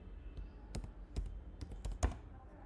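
Quiet keystrokes on a computer keyboard, a sparse, irregular run of sharp clicks and taps up close with short pauses between them.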